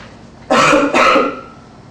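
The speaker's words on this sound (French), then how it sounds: "Je ne savais pas que j'avais toussé ce fort." One loud, close cough in two harsh bursts, breaking the quiet.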